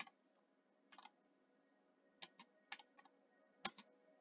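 Quiet, close computer keyboard typing comes in short bursts of clicks separated by pauses, with a few sharper keystrokes near the end.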